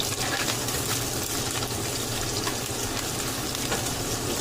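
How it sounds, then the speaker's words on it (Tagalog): Sliced onion and garlic frying in a pan for crab in ginger onion sauce, a close, dense, continuous sizzle with faint stirring scrapes running throughout. "So lagyan na natin sibuyas sa bawang."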